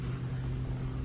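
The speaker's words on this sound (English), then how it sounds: "3-inch white polishing pad on a rotary, and we're gonna try to just finesse this just enough until the sanding scratches are out" Rotary polisher with a 3-inch white polishing pad and Meguiar's M110 compound finishing sanding scratches out of a curb-rashed black wheel rim, a steady close motor hum held at constant pitch throughout with no talking.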